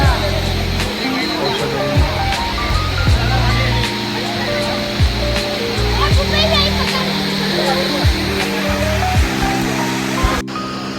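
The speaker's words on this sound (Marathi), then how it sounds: "छोटेसे वरून डोंगरावरनं पाणी पडतंय" A steady roar of a small waterfall dropping from a hill near a hill temple fills the background while a person talks over it throughout.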